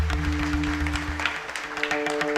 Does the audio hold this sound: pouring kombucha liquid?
no